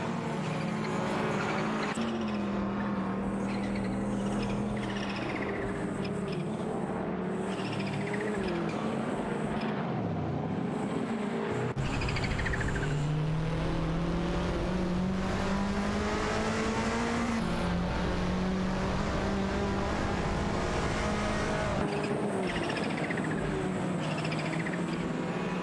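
Porsche race cars, a 911 Carrera RSR 3.8 and a 944 Turbo, in an AI racing simulator video game, engines droning and revving continuously with rising and falling pitch as cars shift gears and pass close by.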